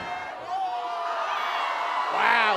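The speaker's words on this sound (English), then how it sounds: "listen to the crowd going nuts" A packed wrestling arena of about 2,200 juggalos roars loudly and steadily, with cheering and whoops swelling toward the end.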